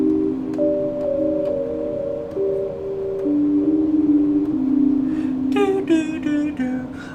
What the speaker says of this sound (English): I've been using this lead a lot. It's Arturia V collection. It's called Autumn Spirit.